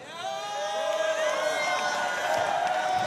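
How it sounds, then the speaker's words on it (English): A big crowd at a boxing event in Abu Dhabi, UAE, sends up a sustained roar of cheering and shouts with whistle-like cries, building and holding loud from start to finish. "This crowd is truly amazing."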